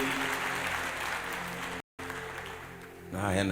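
Applause for Murage of Modern Furniture Pacific at a church gathering, a crowd clapping steadily over the first seconds, broken by a short gap, then fading as a voice begins speaking.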